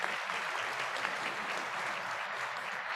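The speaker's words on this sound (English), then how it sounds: "May we have another round of applause for their great achievements." An audience at a scholarship awards ceremony applauds award recipients with steady, even clapping that fills the whole moment at a moderate, somewhat distant level.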